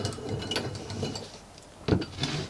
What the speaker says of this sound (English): you get them in the vise